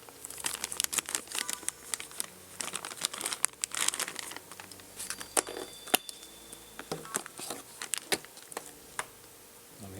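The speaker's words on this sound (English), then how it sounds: "Unwrap this little twist tie" Dry plastic packaging crinkles and crackles as a small twist tie is unwound, a dense run of sharp close-up ticks and rustles with no speech.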